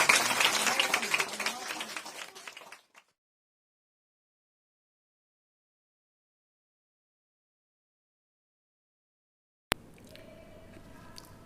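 Loud clapping from a church congregation at a Hindi-language worship service, dense and sustained for about three seconds before cutting to silence, followed later by low background noise.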